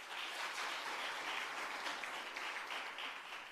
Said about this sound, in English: Can we have an applause for that?